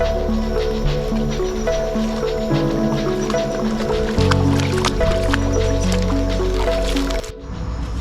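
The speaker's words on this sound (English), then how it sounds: "Passing through some water here." Footsteps wading through shallow water on a nighttime frog search in Trinidad and Tobago, with steady squishing and sloshing close by, set against a dense chorus of frogs and insects calling continuously.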